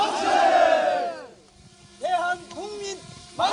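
A crowd at a March 1st centennial reenactment in Cheonan's Aunae marketplace roars 'Manse' in loud, massed shouts, then repeats the cry in short bursts with pauses between.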